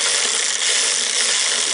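A ratchet snugging the lower bolts on a Jeep Patriot ABS module clicks in a fast, continuous run of close, crisp pawl ticks, loud and alone.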